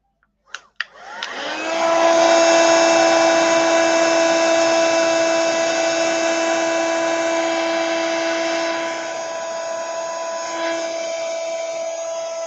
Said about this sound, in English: To move the colour around with the blower,